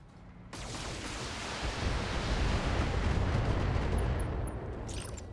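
Heavy mech weaponry fires continuously in a BattleTech battle, a dense roaring barrage of cannon and missile blasts that swells loud and sustained for several seconds with no voices.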